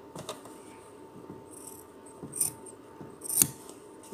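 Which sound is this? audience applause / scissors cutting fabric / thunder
scissors cutting fabric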